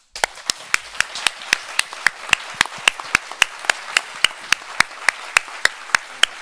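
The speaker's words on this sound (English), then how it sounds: "to adopt this resolution with applause" Steady, evenly spaced hand claps, about four per second, sound over a soft crowd bed as a conference audience applauds to adopt a resolution on ending Code 166 in Germany. Moderately loud and continuous throughout.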